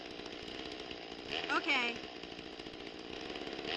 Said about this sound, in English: she's disturbed by a chainsaw-wielding gardener